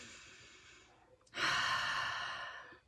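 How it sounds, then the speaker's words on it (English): A deep belly breath drawn in slowly, soft and close after a faint quiet start, then swelling into a long, full airy inhale that tapers off gradually, heard alone. "Take that deep belly breath"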